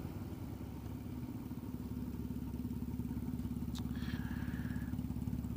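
A seven-year-old motorcycle rides along with a steady, droning engine hum and road rumble throughout, close and constant, with a faint brief squeak partway through.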